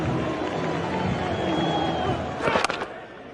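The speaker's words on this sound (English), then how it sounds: "A round of boos from the crowd." Crowd noise at a 2009 England versus Australia one-day international cricket match in London, a broad sustained murmur of spectators with a brief louder burst near the end.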